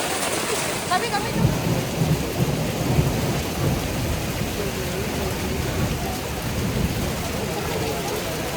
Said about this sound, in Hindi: बारिश है, ओले आप देखो